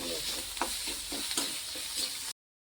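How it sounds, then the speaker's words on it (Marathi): Potatoes being stirred into hot spiced oil in a pan while making Maharashtrian kat vada, a steady close sizzle with rhythmic scraping strokes of the spoon, no talk. "मसाला छान मिक्स करून घेऊया तेलामध्ये आणि आपण त्यात बटाटे घालून घेऊया"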